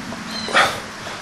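A young dog gives a single short bark in a backyard chicken coop setting, one brief yelp-like burst over a steady low background hiss.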